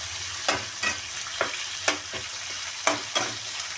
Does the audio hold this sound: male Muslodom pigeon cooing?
no